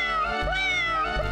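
A cat meows in the video game Nora, one drawn-out, rising and falling meow, clear and close with nothing else over it.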